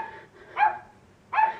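A person imitates a dog with two short, loud barks spaced under a second apart, outdoors or just coming in from a snowball fight, with no other talk.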